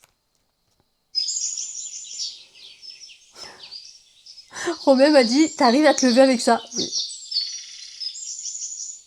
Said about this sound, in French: Les oiseaux. Toute ma vie. Donc j'ai mis ça.